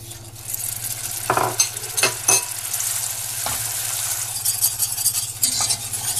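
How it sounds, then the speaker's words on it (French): Butter gets whisked into hot caramel sauce off the heat, giving a continuous close bubbling sizzle with several sharp whisk clicks and scrapes against the pan. "je rajoute le beurre et je vais mélanger tout de suite avec mon fouet pour intégrer le beurre"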